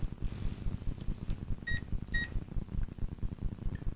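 An electronic alarm gives high-pitched beeps, one long tone followed by two short chirps, fairly faint over a low rumbling background.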